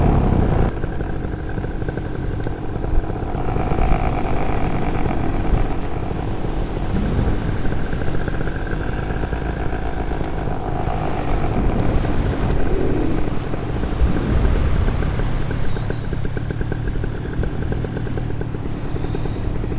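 A paramotor engine runs steadily with the throttle in while flying under a Gin Vantage 3 paraglider wing, giving a continuous buzzing drone mixed with wind rush for about twenty seconds.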